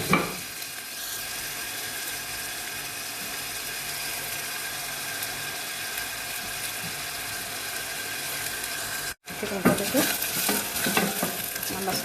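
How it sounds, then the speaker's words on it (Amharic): Onions fry in hot oil in a pot with a dense, steady sizzle, close and even throughout, briefly cut by a short gap before stirring scrapes and crackles resume. "በመጀመሪያ ድስታችን ከጣድን በኋላ ዘይታችን እንጨምራለን። ቅድም ያሳየኋችሁ ዘይት እንጨምራለን። አሁን ሽንኩርት እንጨምራለን።"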